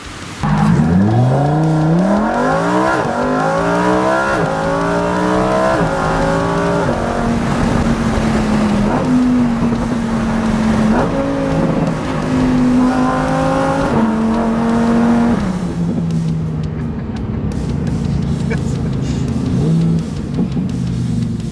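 A Lamborghini Huracan Performante engine revs up and shifts through gears repeatedly, loud and close, with a steady roar throughout and no talking.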